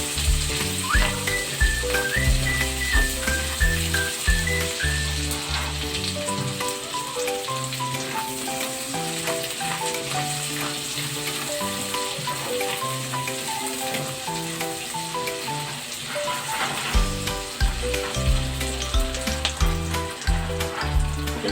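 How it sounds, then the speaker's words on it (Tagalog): Onions sauté in a pan for homemade pork binagoongan, a steady sizzle running underneath loud melodic background music from start to finish. "Pag naluto na po yung sibuyas, yan, caramelize na."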